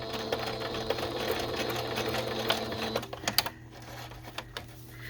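A sewing machine stitching crochet lace ruffles, its steady close mechanical whirr running for about three seconds, then stopping into a few clicks and handling taps.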